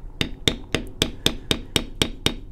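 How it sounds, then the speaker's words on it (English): Mallet blows drive a metal bevel tool into a leather belt during tooling: about ten crisp, evenly spaced taps, roughly four per second, close and clear with no talking. "So right now I'm beveling everything I can reach from this side of my belt."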